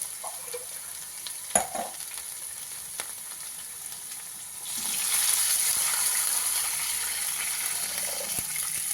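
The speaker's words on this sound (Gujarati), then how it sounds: "આપણે આને છાશથી જ વઘાર કરશું," Buttermilk and water hit a hot tempering of ginger, green chillies and asafoetida for a dhokli curry: after a few quiet seconds and a clink, a loud, steady sizzle bursts out and continues to the end.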